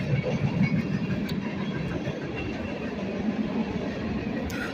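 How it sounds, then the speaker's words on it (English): A long train rolls past in a steady, continuous rumble with soft rail clatter, moderately distant and fairly quiet, with no voices. "That's the longest train ever. That is a long train."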